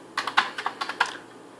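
Keys clack on a Commodore 64C home computer keyboard, about eight crisp, fairly close keystrokes in an uneven rhythm over a faint hum, with no talking.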